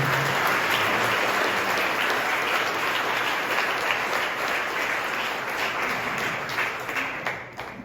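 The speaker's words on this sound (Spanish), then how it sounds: "Vamos a dar un fuerte aplauso a ellos." A church congregation applauds in a loud, continuous patter of many hands during a novena Mass, holding steady before tapering slightly toward the end, with no voices standing out.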